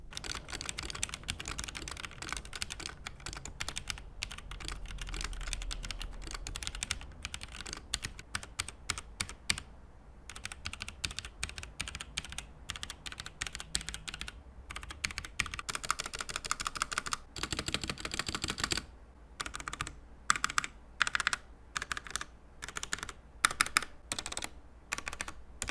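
Rapid typing on an RK61 60% RGB mechanical keyboard with ABS double-shot keycaps and a slightly rattly spacebar and shift key, a dense stream of close clicky keystrokes with brief pauses throughout, no voices.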